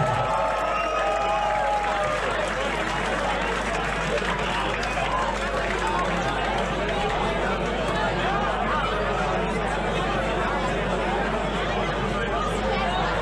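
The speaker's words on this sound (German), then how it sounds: "Applaus für beide Rapper" A crowd at a German rap battle semifinal applauds and cheers both rappers, a continuous loud wash of clapping, shouts and crowd chatter with voices mixed throughout.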